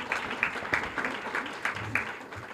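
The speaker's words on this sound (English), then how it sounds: "a round of applause for that" An audience at an award presentation for Boston Arts Academy breaks into a brief round of applause, scattered clapping with a few sharp individual claps standing out, while a voice speaks over it.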